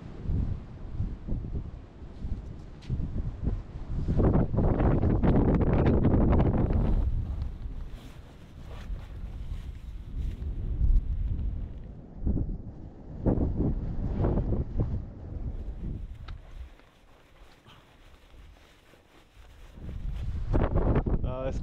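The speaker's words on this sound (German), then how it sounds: "ist crazy mit dem Wind. Absolut crazy." Strong mountain wind buffets the microphone on an Alpine highline, a loud, rough rumble that surges and eases in gusts, with talk at times.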